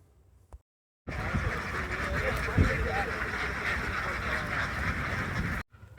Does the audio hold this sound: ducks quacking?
yes